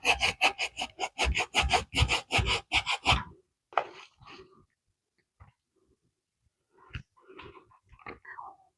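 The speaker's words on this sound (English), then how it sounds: "When your cassava is really nice and fresh like this one, the grating process is really easy." Fresh cassava root rasps against a hand grater in about a dozen quick, even strokes, then gives way to a few scattered softer scrapes and handling noises, all close up with no speech.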